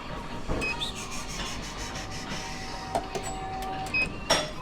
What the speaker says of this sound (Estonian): viskad makroonid siia printerisse, ma kohe näitan teile